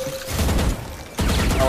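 Valorant gunfire comes in two loud, close bursts of rapid automatic shots separated by a brief lull, dense and sharp with no talking over them.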